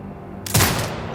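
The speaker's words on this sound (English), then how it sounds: "Exit binocular mode and command the turret to fire." An automated turret fires in the shooter game Sniper Ghost Warrior Contracts 2: after a quiet low hum, one sharp loud burst hits and decays into a short rumbling tail.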